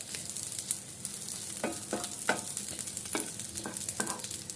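Ingredients for tamarind chutney frying in a pan, a quiet steady sizzle broken by several sharp scraping stirs of a spatula.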